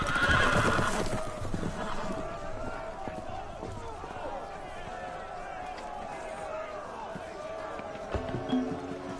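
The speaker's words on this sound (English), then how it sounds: "The horses! They're loose!" Loose horses in a Game of Thrones video game whinny loudly at the start, then hooves clatter and thud as they run, with shouting voices and bustle mixed in.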